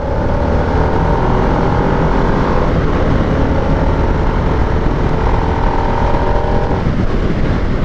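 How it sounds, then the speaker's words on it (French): Harley-Davidson Nightster 975 A2 on its stock exhaust while riding, a loud continuous engine drone with wind rush and shifting revs throughout. "Ça pétarade bien hein, cet échappement de série là."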